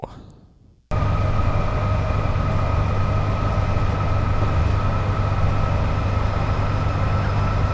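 Inside a carriage of a Manchester and Liverpool to Glasgow express hauled by a class 87 locomotive on the West Coast Main Line over Shap, a loud, steady rumble and roar fills the cabin after a brief quieter moment at the start.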